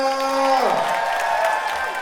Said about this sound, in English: And one more huge round of applause to Yelena!